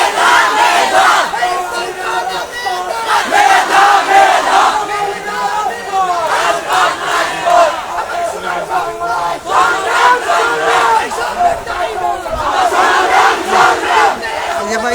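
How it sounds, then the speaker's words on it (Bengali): A student protest march crowd at Shahjalal University of Science and Technology in Sylhet chants slogans in loud, rhythmic unison, voices rising and falling in repeated call-and-response waves, close and continuous. "বিক্ষোভ মিছিলটা করছেন আমরা আপনাদেরকে তা সরাসরি দেখানোর চেষ্টা করছি এবং বিভিন্ন বিভিন্ন স্লোগান দিচ্ছেন"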